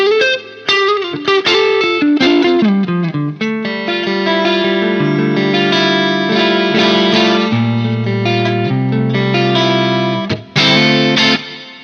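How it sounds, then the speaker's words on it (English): Guitar played through a Red Panda Context reverb pedal: clean single notes and chords ring out with a lush, decaying tail that blurs each phrase into the next, loud and close with no talk. "that's kind of like for a less over-the-top reverb"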